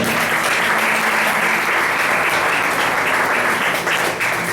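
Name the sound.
applause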